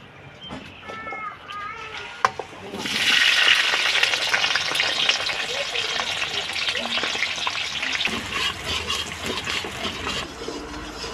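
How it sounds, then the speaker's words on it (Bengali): Onion and capsicum dropped into hot oil for chicken chilli, sending up a loud sudden sizzle that keeps crackling steadily, with occasional stirring, close by. "এই এই তেলের মধ্যেই আমরা পেঁয়াজ আর ক্যাপসিকামটা ভেজে নেবো"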